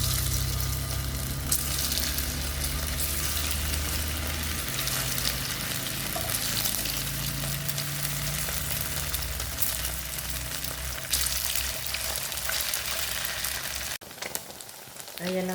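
A chicken roll fries in a pan with a continuous, even sizzle and crackle for several seconds, then a brief disturbance near the end as the frying carries on.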